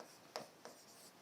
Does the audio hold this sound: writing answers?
yes